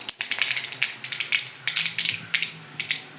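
Rapid irregular crackling and popping, like mustard seeds spluttering in hot oil, sharp snaps over a quiet background.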